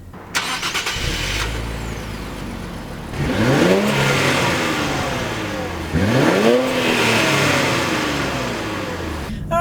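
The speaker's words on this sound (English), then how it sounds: "Alright, so setting off in the 2016 Infiniti Q50 RS400." A 2016 Infiniti Q50 Red Sport 400 AWD starts off and accelerates, its engine revving up in two strong rising sweeps heard from inside the cabin, loud and close.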